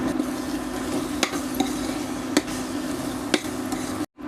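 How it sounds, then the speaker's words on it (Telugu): Masala paste being stirred in a frying pan, a low steady sizzle broken by a few sharp spoon scrapes and clicks at regular intervals, ending abruptly. "ఇప్పుడు మొత్తం అంతా బాగా కలుపుకోవాలి"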